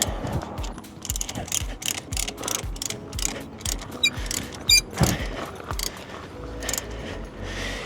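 Wrench cranking RV stabilizer jacks at a campground setup, a steady run of quick metallic ratcheting clicks with a few louder clanks, close and continuous.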